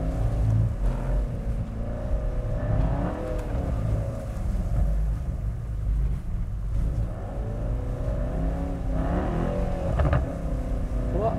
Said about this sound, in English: Now it's time to just have a bit of fun in drift mode.